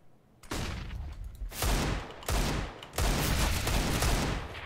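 Gunfire from the video game Squad rings out in several heavy, sustained bursts of automatic fire, close and loud, with short gaps between volleys and no voices.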